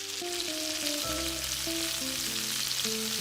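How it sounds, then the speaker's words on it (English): Minced garlic fries in a little butter in a pan, giving a steady, close sizzle that holds evenly throughout with no talking. "We have to fry the garlic so that it doesn't burn at a ½ teaspoon of butter"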